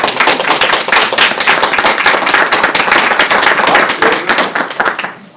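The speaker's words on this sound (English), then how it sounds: "Folks, we're going to keep the applause down." Audience applause at a town board meeting, many people clapping in a loud, crisp, steady patter that tapers toward the end.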